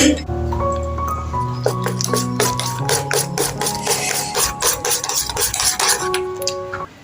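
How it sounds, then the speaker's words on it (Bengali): A spoon stirs Amul milk into payesh in a pot, making quick, repeated metallic clinks and scrapes close by, with steady tones and a voice in the background. "আমুল দুধটা গুলে দিয়ে দিচ্ছি"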